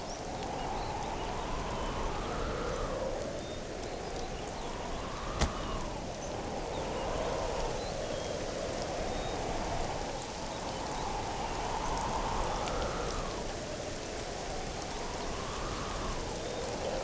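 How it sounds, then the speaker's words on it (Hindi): Steady rain falls in an outdoor scene, a soft continuous hiss of drops that holds evenly throughout, quiet and unbroken, with a faint single tick partway through. "लगता है बारिश होने वाली है"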